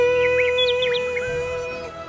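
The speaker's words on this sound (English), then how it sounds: "Songbirds like to sing." Songbirds chirp and whistle in quick rising and falling notes, several short calls in a row over a steady tonal hum, fairly close and clear.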